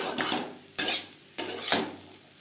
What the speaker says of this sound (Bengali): ডিমের সাথে আলু বেশ ভালো করে মিক্স করে দেবো এক দু মিনিট নাড়াচাড়া করে নেওয়ার পর